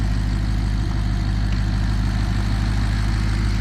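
A Maserati GranTurismo's naturally aspirated engine idles steadily, a deep, continuous low rumble with a faint vibration, close and unchanging throughout with no voices.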